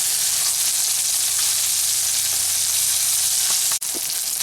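Chicken strips and okra fry in a pan with a dense, steady close sizzle, nearly constant hiss with a brief dip and faint clicks near the end, no talk.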